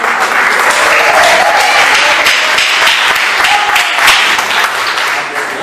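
Sustained, loud applause from a church congregation at a Portuguese-language evangelical praise service, dense clapping filling the whole stretch with some crowd voices mixed in.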